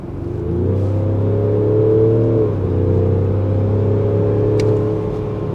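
A Range Rover Sport's 3-litre diesel engine revs up and holds a loud, steady, droning tone close by, dipping briefly before rising again.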